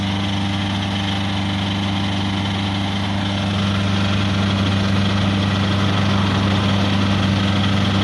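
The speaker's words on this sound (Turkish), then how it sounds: "Ara gaz ver aniden bir ara gaz ver" A Volkswagen Transporter van engine idles with a steady low rumble, growing a little louder partway through as if revved gently.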